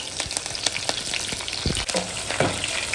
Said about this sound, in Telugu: అదే కరివేపాకు కూడా వేసుకుందాం